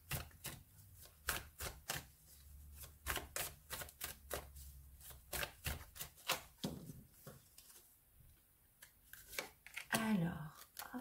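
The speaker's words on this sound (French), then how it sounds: "Je vais encore vous tirer une petite carte." Oracle cards being shuffled and drawn for a soul-mate reading: a long run of quick, crisp riffling and flicking snaps, close and fairly quiet, with a brief murmur near the end.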